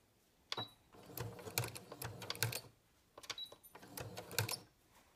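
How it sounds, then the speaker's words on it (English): A sewing machine stitching a cloth pad with a quarter-inch seam, running in two quiet bursts of rapid mechanical whirring and clicking separated by a brief pause, close and without speech. "I'm just going to sew these with a 1/4-inch seam"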